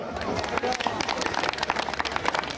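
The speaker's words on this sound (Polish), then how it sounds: "gorące brawa" Clapping from an outdoor crowd at a community integration picnic in a market square, a continuous, busy patter of many hands with a murmur of voices underneath.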